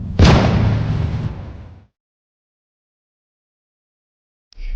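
A single loud, close dynamite explosion in the video game The Walking Zombie 2: a sharp booming blast that rumbles and fades over about a second and a half, then silence.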